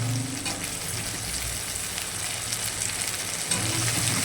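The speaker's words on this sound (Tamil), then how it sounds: "நம்ம அரிஞ்சு வச்ச காய்கறிகள் அதை நம்ம போட்டு நல்லா வதக்கணுங்க." Chopped eggplant, drumstick, potato and broad beans sauté in a pan for a dried-fish karuvadu kuzhambu, giving a steady, close, continuous sizzle and crackle with faint stirring and no talking.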